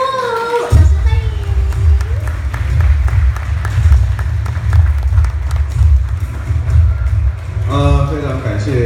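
A crowd claps steadily for several seconds at the opening ceremony of a Porsche showroom and service centre in New Taipei, the applause running over a low, booming background of music before fading near the end.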